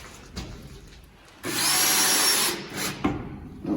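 A cordless drill drives a screw into a work bench, one loud close whirring burst of about a second with softer handling knocks before and after.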